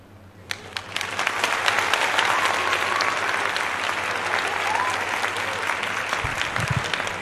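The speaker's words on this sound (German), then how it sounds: "Das ist tatsächlich ein Applaus wert." Sustained applause from a crowd, dense and steady clapping that swells and holds throughout, with a few louder individual claps standing out near the start.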